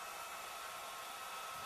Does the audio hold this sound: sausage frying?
no